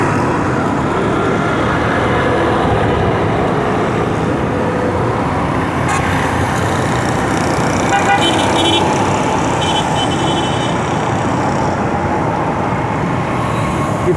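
Dense road traffic in a jam near a bridge on Shahra-e-Faisal in Karachi during Ramadan, a constant loud roar of engines with a few brief car horn toots rising above it midway.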